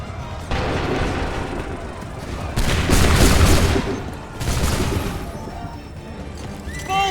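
Musket volleys crackle in Assassin's Creed III Remastered, dense fusillades rolling through a battle din with two heavier bursts of massed fire, loud and continuous against a background of battlefield noise.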